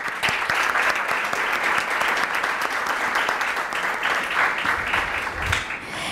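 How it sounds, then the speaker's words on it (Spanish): Steady, dense audience applause at a youth forum on electoral justice, continuous and even for several seconds with little else audible. "me gustaría pedir un aplauso para todas las personas que hacen esto posible"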